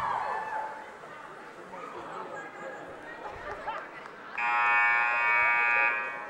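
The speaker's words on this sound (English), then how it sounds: "Buzzer sounds and our fourth quarter is going to get underway any moment." A loud, sustained electronic buzzer blares for about two seconds in a high school gym during a basketball game, following crowd chatter and general arena noise.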